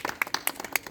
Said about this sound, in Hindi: सबसे पहले मैं अपने मुख्य अतिथि के लिए मैं चाहूँगा आप सभी एक बार जोरदार ताली बजा करके स्वागत करें।